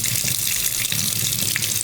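Cold water pours from a tap in a steady, loud rush while a tankless water heater's filter screen is rinsed off under it.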